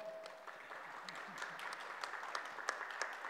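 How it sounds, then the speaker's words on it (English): Applause from the audience at a press conference marking the launch of a campaign website, a steady, moderately distant patter of many hands with a few sharper claps, heard alone without voices. "Some applause."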